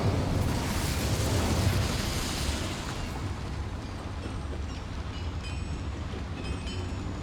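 An Incendio fire spell cast in Hogwarts Legacy inside a complex with boilers, heard as a loud, sustained roaring whoosh of flame that slowly settles into a steady rumbling burn, with faint high tones near the end.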